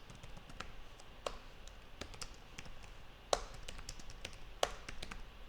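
Typing code comments on a computer keyboard, with quiet, sparse key taps and a few sharper clicks spread over several seconds, close and soft with no talk.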